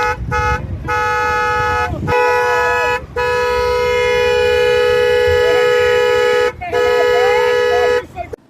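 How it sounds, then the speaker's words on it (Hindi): Vehicle horns blare in long, loud overlapping honks at a farmers' protest against fuel price hikes, with several short gaps between blasts. "हॉर्न इसलिए बजा रहे हैं महंगाई के खिलाफ"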